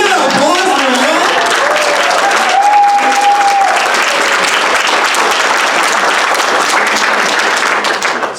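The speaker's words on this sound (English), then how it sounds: "Can we get an applause for that?" Loud, sustained applause from a graduation audience for the GD75 game development class, dense clapping with some whistling and crowd voices mixed in.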